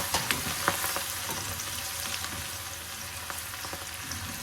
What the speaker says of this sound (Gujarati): અને એને થોડીક વાર સાંતળવા દઈશું